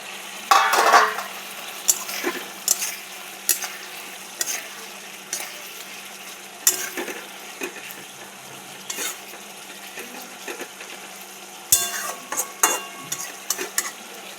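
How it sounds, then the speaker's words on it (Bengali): Fried eggplant stirred into sizzling mustard paste masala in a pan, with a steady frying hiss broken by repeated sharp scrapes and clinks of a spatula against metal, close and loud, no talk. "এবার দিয়ে দেবো ভাজা বেগুন। ভেজে রাখা বেগুন দিয়ে দিলাম।"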